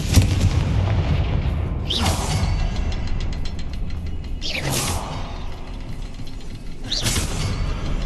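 The Confringo spell explodes in the Hogwarts Legacy video game as a sharp booming blast with a whoosh. Three such bursts come at a few-second interval over a constant rumbling background.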